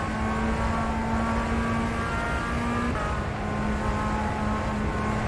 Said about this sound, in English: they sound like RF2 engine sounds, which are kind of bland to me